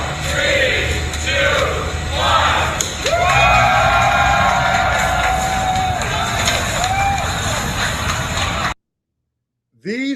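A crowd cheers and shouts in a played-back recording, a loud, continuous roar with bursts of voices that cuts off abruptly near the end.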